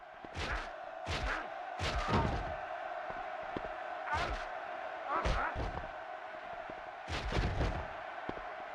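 Clotheslines and slams land in the wrestling video game WCW Backstage Assault: about half a dozen sharp, heavy thuds come in irregular clusters over a low crowd roar, with a commentator talking between hits.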